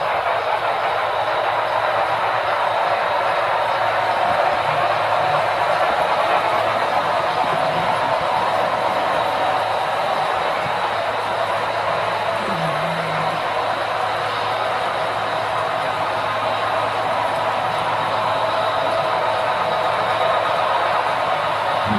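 A train rumbles steadily with a constant broadband hiss, moving off at a distance after waiting for a long freight train to clear ahead; no talk, just the even, continuous roll of the rail cars.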